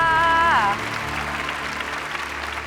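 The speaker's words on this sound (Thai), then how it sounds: "ขอเสียงปรบมือดังให้กับคุณดูด้วยครับ" Studio audience applause on a Thai TV quiz game show rises right after a short electronic musical tone, settling into a steady wash of clapping for the remaining seconds.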